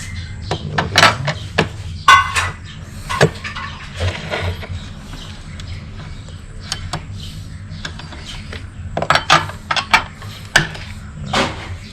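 A T10 screwdriver works loose screws on a PE28 motorcycle carburetor fitted to a Honda Vario. Close, irregular metallic clicks, scrapes and small knocks from the tool and parts, with no talking.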